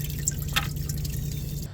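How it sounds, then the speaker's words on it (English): Leftover test gasoline drips and trickles out of a one-gallon fuel can during a fuel flush on a Jeep XJ Cherokee. It is a close, steady liquid trickle with one brief splashy spurt and no talking. "So I'll just let the rest of this gallon drip out"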